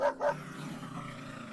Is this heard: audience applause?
no